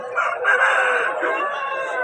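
A rooster crows loud and close at a bird sale, one long drawn-out call filling the whole moment, with faint background noise beneath it.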